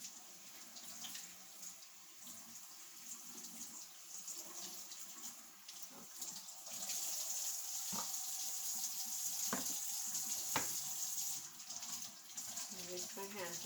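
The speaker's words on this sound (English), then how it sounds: "I'm going to rinse them off again" Tap water runs quietly and steadily as items are rinsed in a kitchen sink while pickling carrots, cucumbers and red onions, with a few soft knocks and clatters partway through.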